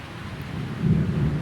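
Thunderstorm in the role-playing game Elona+: a low, steady rumble of thunder and rain that swells louder near the end, with no voices.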